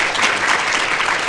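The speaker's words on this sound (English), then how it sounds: "Let's give our participants a round of applause." A debate audience applauds the participants, a dense burst of clapping from a crowd that fills the short moment at steady loudness.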